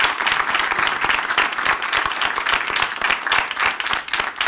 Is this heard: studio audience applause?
yes